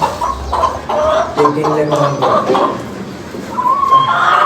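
Chickens cluck and call intermittently nearby, with a brief rising squawk near the end amid farmyard background noise.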